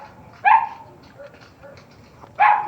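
A dog barks angrily in two sharp, loud bursts separated by a short pause, near and clear, with faint background noise between and no talking.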